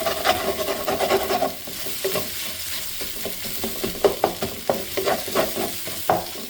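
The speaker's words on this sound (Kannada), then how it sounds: "ಇದಕ್ಕೆ ರೈಸ್ ಮಿಕ್ಸ್ ಮಾಡಿಕೊಂಡು ರೈಸ್ ಗ್ರೀನ್ ಆಗೋಗುತ್ತೆ" Cooked rice being stirred into green masala in a pan, a steady run of scraping and rubbing strokes with soft sizzling underneath, close and alone with no talk.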